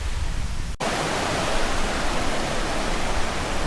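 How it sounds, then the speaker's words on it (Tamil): Waterfall water near Gundaru Dam in Tenkasi rushes like a big river, a loud, dense, continuous roar close by, broken by one brief cut near the start, with no talk. "அங்கே தண்ணி அந்த மேலேருந்து ஃபால்ஸில் வர தண்ணி இங்கே பெரிய ஆறு மாதிரி ஓடுது"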